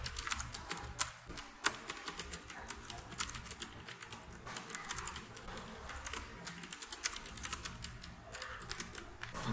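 Steady, quick keystrokes clatter on a computer keyboard while code is typed in Python, a continuous close run of light clicks with no voices.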